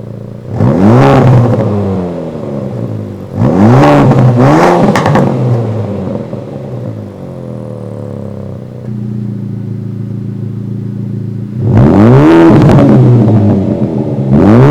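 Honda FL5 Civic Type R with a Milltek exhaust and sound-controller valve revving in repeated bursts, loud close engine rises and falls, with a steadier idle drone between blips, alternating between open and closed valve tones.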